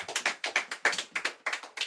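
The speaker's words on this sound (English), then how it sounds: "Please give her a big hand clap." An audience at an oratory competition claps for a speaker, a sparse, fairly close run of individual hand claps in an uneven rhythm with no talking.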